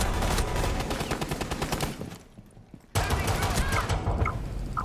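Rapid, dense bursts of gunfire in Rainbow Six Siege rattle on loudly and continuously, drop away into a brief muffled lull, then resume at full intensity.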